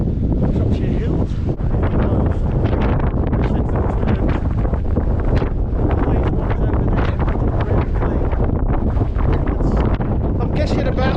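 Strong wind of about 30 to 40 miles an hour roars across the freezing summit of Titterstone Clee Hill in the Shropshire Hills, buffeting the microphone in a loud, continuous rumble throughout.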